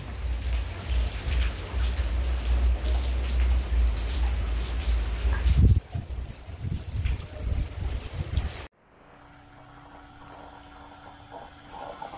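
Heavy afternoon rain falls around a gazebo in Bali, a loud steady patter and rush close by that shifts partway through, then cuts to a much quieter background hum for the last few seconds.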